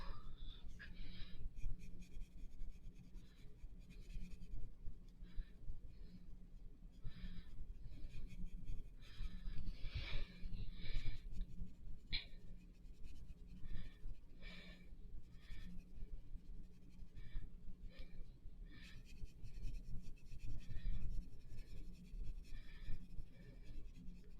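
Graphite pencil shading a texture on paper, a steady close scratchy rasp with rhythmic strokes that continues throughout, without talk.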